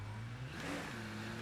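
A car engine in State of Decay 2 hums and revs steadily at moderate volume, a continuous mid-pitched drone with a slight rise in pitch partway through, heard alone.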